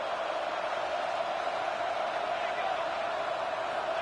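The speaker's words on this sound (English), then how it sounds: "And here comes the noise. This crowd is trying to inspire this defense to make a big red zone stop." Stadium crowd at an American football game roaring to spur the defense toward a red zone stop, a steady, broad wash of distant noise held at an even level with no clear individual voices.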